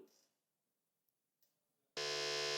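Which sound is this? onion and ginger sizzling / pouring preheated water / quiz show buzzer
quiz show buzzer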